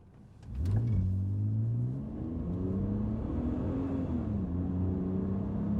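A BMW E46 in drive accelerates from standstill toward 100 km/h, its engine rising steadily in pitch, dipping briefly at a gear change, then climbing again, loud and close with no voices.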